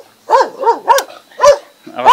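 A dog on a hillside road in Albania barks five times in quick succession, loud and close, each bark short and sharp with slight yelping tone.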